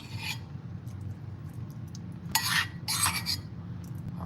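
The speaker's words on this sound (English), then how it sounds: "we're gonna put our onions on our sandwich" Onions placed onto a sourdough sandwich for a French onion grilled cheese, soft rasping and rubbing with a few louder scraping bursts, quiet and close, no voices.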